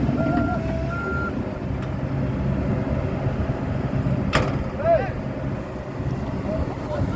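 A Komatsu 130 excavator travels in its fast rabbit gear, its engine and track rumble droning steadily with reversing-type beeps sounding near the start, while someone speaks over the machine noise.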